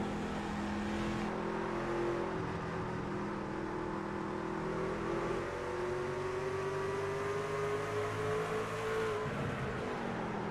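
Race cars circle an oval dirt track, their engines blending into a continuous distant drone that rises and falls as cars pass, with a rising whine from one car pulling through the turn.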